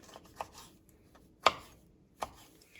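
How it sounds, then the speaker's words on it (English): A knife cuts vegetables into medium dice on a cutting board. Three distinct chops sound close and clear against near silence, the middle one the loudest. "So I'm just going to do medium dices."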